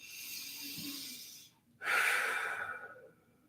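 Two slow, deep breaths are heard close up, a long airy inhale followed after a short pause by a stronger, breathy exhale, quiet and alone with no talk.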